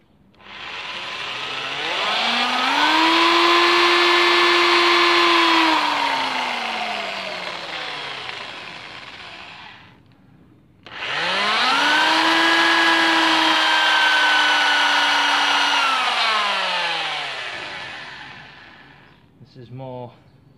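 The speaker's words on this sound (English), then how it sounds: "drill this one." Power drill boring into wood for a log reindeer, two long sustained whining runs with dips in pitch as the bit labors, the worn bit burning more than cutting, loud and close with a short pause between.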